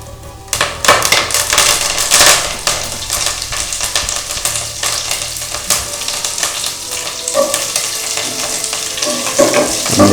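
Green chillies and curry leaves crackle loudly in hot oil with browned chana dal for traditional Brahmin-style mango chitranna, a dense, close spitting sizzle with rapid pops and occasional stirring clinks, no voices.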